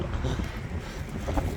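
Gusty wind on a Reykjavik street, a low rumbling buffet across the microphone that swells and eases over a second and a half, close and rough with no clear voices.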